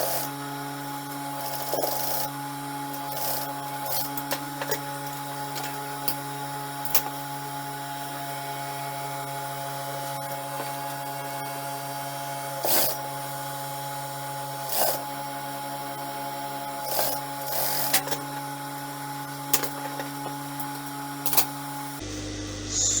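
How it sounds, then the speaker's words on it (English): A sewing machine stitches fabric pleats for an off-shoulder puff sleeve, giving a steady, fairly quiet mechanical whir with a few brief louder clicks and bumps, and no talking. "So I'm just going to stitch this now, so you could see this point."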